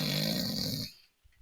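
A voice imitates nasal snoring, a sustained, loud, rough nasal rumble lasting under a second, then breaking off into near silence with a faint breath at the end.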